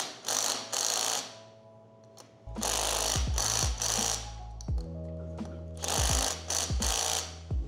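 Wheel nuts being tightened on the front wheels of a Battle Aero drift kart, heard as bursts of rapid mechanical ratcheting repeated several times, loud and close, with short pauses and no talking.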